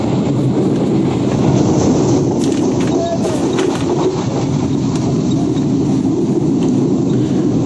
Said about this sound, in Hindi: हैदराबाद सिटी को अच्छी स्पीड में एंटर कर रही है 8 डाउन तेजगाम एक्सप्रेस